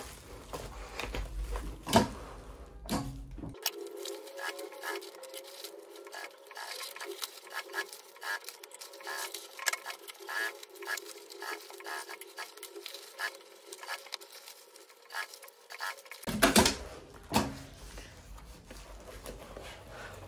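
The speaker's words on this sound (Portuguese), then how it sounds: "E agora eu vou passar uma costura em toda a volta" A sewing machine runs a steady line of stitching around a men's lunch bag, a continuous fast patter lasting about thirteen seconds at moderate volume, with brief handling sounds before and after.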